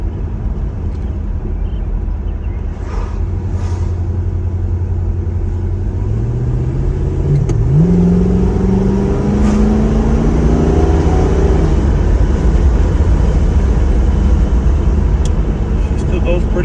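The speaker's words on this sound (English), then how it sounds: "Not too bad for a 52-year-old car." Engine of a 1970 Pontiac GTO while driving, a steady low rumble with a rising rev swell midway, heard from inside the car with people talking over it.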